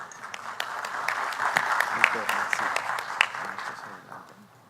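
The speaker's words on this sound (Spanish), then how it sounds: "Lo recibimos con un fuerte aplauso," Audience applause welcoming a speaker at a Peruvian superior court of justice event, a steady wash of many hands clapping that swells in the middle and slowly fades, with no speech over it.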